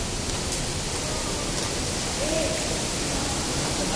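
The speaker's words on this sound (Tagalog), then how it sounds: "Ah, talaga may waterfall siya." Tall waterfall inside a cave, a steady broadband rush of falling water filling the space evenly and continuously, with no voices.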